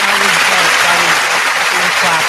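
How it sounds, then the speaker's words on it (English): Studio audience clapping on a radio show, a dense, loud wash of applause that fills the short moment, with a voice faintly under it. "Clap it up again."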